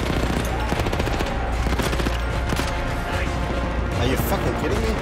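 Heavy, rapid gunfire in Battlefield 1, with dense automatic bursts and booming shots filling the scene loudly, while someone talks excitedly over it.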